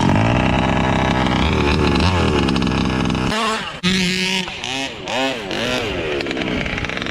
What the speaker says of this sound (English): It's a really sweet, massive RC car, 2-stroke engine in it